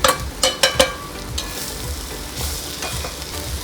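Soybean mince frying in a spiced masala in a pan: a steady sizzle close up, with a few quick clinks and scrapes of stirring at the start, and no voices.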